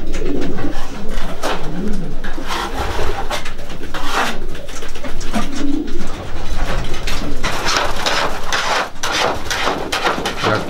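Racing pigeons in a loft coo in soft, overlapping murmurs under a loud, continuous background of rustling and bird noise, with scattered knocks and wing sounds.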